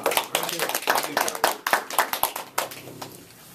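A small meeting audience claps for a volunteer who has taken on the grammarian role, a quick burst of close, individual hand claps that thins out and fades toward the end.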